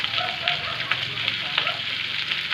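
Pork fat and meat frying in a pan for binagoongan: a steady, close crackling sizzle with frequent pops and spits and no clear break, running the whole time.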